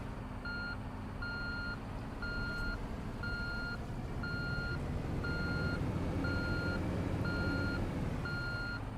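A road roller backing up in Construction Simulator 3, its reversing alarm beeping steadily about ten times in an even rhythm over a low diesel engine drone, no talking.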